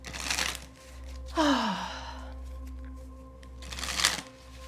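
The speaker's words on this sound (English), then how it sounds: "I'm also learning how to shuffle better" Tarot cards being shuffled by hand, with a couple of brisk riffling bursts at the start and end and a quieter sliding, flicking stretch between, close up over a steady low background hum.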